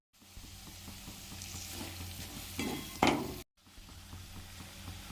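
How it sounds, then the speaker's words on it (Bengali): Salt, turmeric, Kashmiri chilli powder, coriander and cumin powder sizzle as the masala is fried in a pan, a soft steady crackle with a brief louder burst of stirring near the end. "এরপরে এতে নুন, হলুদ, কাশ্মীরি লঙ্কার গুঁড়ো আর ধনে গুঁড়ো আর জিরে গুঁড়ো একটু দিয়ে মশলাটা একটু ভালো করে কষিয়ে নেব।"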